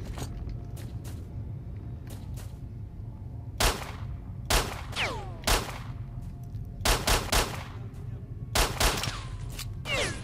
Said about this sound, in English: Can you guys stop shooting me?